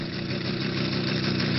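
A motorcycle engine idles steadily nearby, a low, even mechanical rumble with a regular pulsing beat that runs unbroken and alone throughout.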